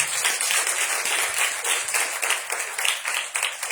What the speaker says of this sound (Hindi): आइए खुदा की जलाल के लिए जोरदार तालियां दें